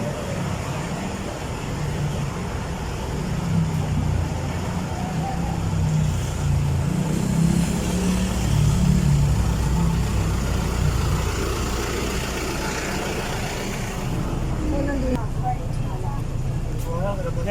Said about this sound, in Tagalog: Ito, nakasakay na po tayo sa shuttle.